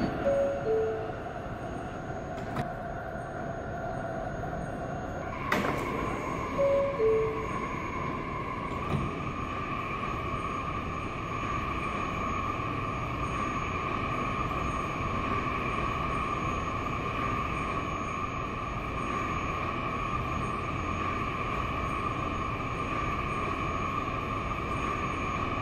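Interior of a New York City subway Queensbound A Express train running underground, a steady loud rumble with sustained tonal hums, a couple of sharp clanks early on, and continuous track noise throughout.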